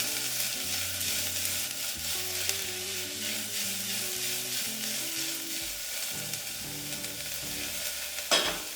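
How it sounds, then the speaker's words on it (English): Onions fry in a hot pan with a steady broadband sizzle, while a utensil stirs them in a quick run of scraping strokes near the end. The pan is close and clear, with no voices and some low background tones. "get these onions started cooking. Get those stirred around a little bit."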